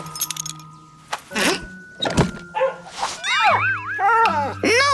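A dog in a cartoon scene barks and whimpers in short bursts among thumps, jangling and animated voices, with music-like tones partly covering it.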